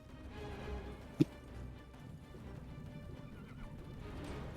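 A horse pulling a cart gives a loud whinny amid steady clip-clopping hooves, with one sharp knock partway through; no voices.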